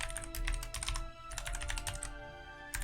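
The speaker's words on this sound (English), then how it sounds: "I guess I have to type it in." Rapid, steady typing on a computer keyboard during a session of the online game Lord of the Rings Online, dense clicking keystrokes close up with no talk.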